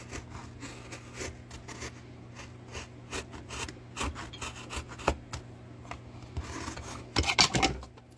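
A skew chisel carves a fairly light piece of wood for a relief-carved light post, giving quiet, uneven scraping and rasping strokes close by, with a cluster of sharper cuts near the end.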